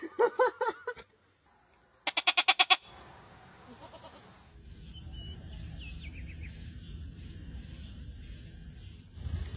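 A person imitates a goat's bleat twice, each a loud, wavering, stuttering call with a short pause between them, then a lower rumble of outdoor noise and a steady high insect-like whine.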